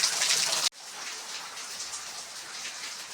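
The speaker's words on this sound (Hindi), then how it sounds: "आजकल पहाड़ों में बारिश हो रही है" Rain falls steadily on a mountain village, a dense, close hiss that is loudest for the first moment before dropping abruptly to a softer, even patter that continues to the end.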